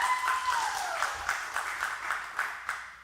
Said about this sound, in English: You can clap there.